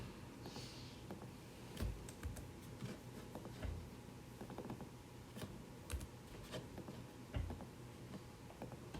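Keys clatter on a computer keyboard in quiet, irregular bursts of typing, with scattered sharper clicks against a low background hum and no one speaking.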